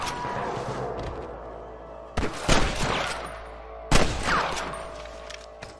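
Red Dead Redemption gunfight with sharp, loud gunshots ringing out in bursts of several rapid shots, separated by brief lulls and trailing echoes, with no talk.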